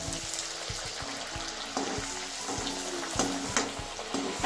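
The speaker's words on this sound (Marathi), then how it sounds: "अशाच आपण सर्व पुऱ्या या तळून घेऊ." Tomato pooris deep-fry in hot oil, giving a continuous bubbling sizzle with a regular pattern of soft pulses as the pooris are moved around in the oil, close and steady with no talk.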